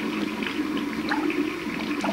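Water runs steadily into a bath, a continuous soft gushing and gurgling at moderate distance with no voices.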